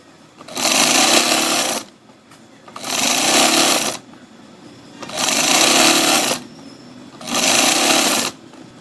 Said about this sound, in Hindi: तो चलिए इसे सिलाई लगाते हैं।